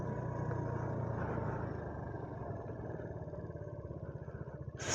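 A car drives slowly along a rough tractor track, its engine droning low with a steady rumble and rhythmic thumping and rattling from the bumpy ground, ending in a sudden loud rush.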